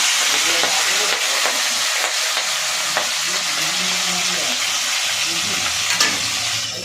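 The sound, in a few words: nigella seeds (kalo jeera) tempering in hot oil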